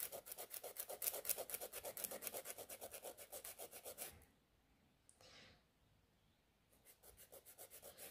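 Close, steady back-and-forth rasping of a file shaping a fingernail, fast even strokes for about four seconds, a pause with one brief scrape, then the strokes resume quietly.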